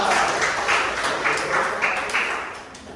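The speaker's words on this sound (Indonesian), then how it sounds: "Nah, tepuk tangan." Classroom applause, a short wash of clapping from students, loud and close with a noisy roomy tone, tapering off near the end.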